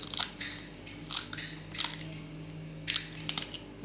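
Garlic squeezed over a tray of chicken and potatoes gives a few soft, wet crunching squishes in separate bursts, close and quiet, with no talking.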